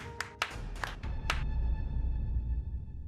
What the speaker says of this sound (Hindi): मेरे परफॉर्मेंस पे एक ताली बनती है कि नहीं बनती?